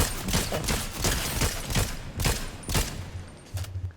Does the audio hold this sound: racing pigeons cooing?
no